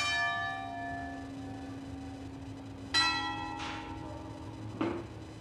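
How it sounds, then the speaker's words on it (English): Church bells in Terrasini, Sicily ring out with long sustained tones, two struck rings followed by a softer stroke, each leaving a humming decay. "Oh, the bells."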